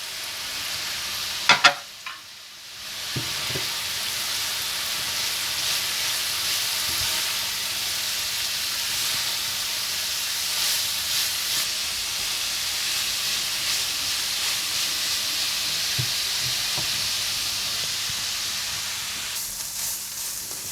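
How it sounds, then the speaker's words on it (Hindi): Grated carrots with cardamom powder fry in a pan, a steady bright sizzle and hiss that runs throughout, with a few clinks of a stirring utensil near the start. "और इसमें डाल दें कद्दूकश की हुई गाजरें और 1/4 टीस्पून इलायची पाउडर डालकर अच्छा सा भून लें"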